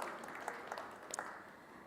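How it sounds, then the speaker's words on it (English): Quiet, steady applause from a conference panel audience, a soft continuous patter of clapping with a few sharper claps standing out. "A round of applause."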